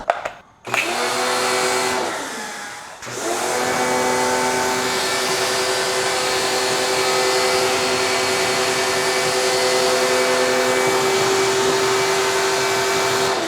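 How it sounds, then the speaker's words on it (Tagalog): Air blower running in a steady, loud whine to blow dust off a Kawasaki H2 motorcycle during a carbon clean. After a brief start, a short pause, then a long continuous blast with no talking. "bugahan natin siya ulit para matanggal na yung mga dust"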